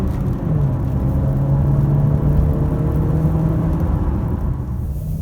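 A Honda CR-V with a 1.5 turbo petrol engine is floored in second gear around 120 km/h, heard from inside the cabin as a steady, loud droning engine hum over road rumble, with no talking.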